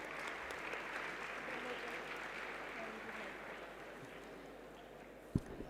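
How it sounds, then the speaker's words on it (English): Steady applause from an audience, fairly quiet and distant, with a few louder claps near the end; some faint talking mixed in. "Please give a big round of applause for CA Darpan Inani sir."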